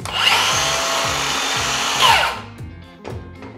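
Milwaukee M18 2631-20 cordless circular saw, a loud high whine running steadily for about two seconds, then the electric brake pulling the blade quickly to a stop, followed by a few faint clicks.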